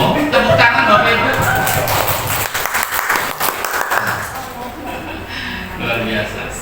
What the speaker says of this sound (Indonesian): Tepuk tangan Bapak Ibu